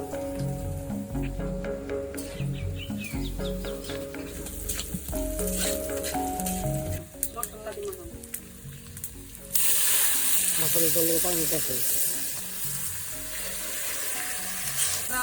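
Garlic paste, cumin and turmeric sizzle in a hot frying pan for a singi fish curry with papaya, a steady close crackle that grows louder and brighter partway through, over a continuous tonal background.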